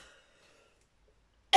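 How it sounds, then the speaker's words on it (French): A single short cough bursts out close and loud at the very end, after near-silence. "J'ai pas arrêté de tousser."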